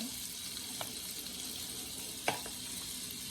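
Butter melts in a pan while croutons are made, a faint, even sizzle with a couple of brief clinks of a utensil against the pan.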